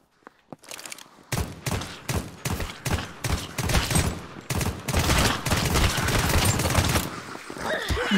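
Rapid gunfire in the zombie survival game Deathly Stillness: a few separate shots open, then a dense, loud burst of repeated shots fires in quick rhythm for several seconds before easing off.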